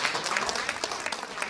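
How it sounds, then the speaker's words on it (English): Applause at a House Democrats press briefing, a steady wash of clapping filling the brief moment before the next speaker takes the podium. "That is an applause."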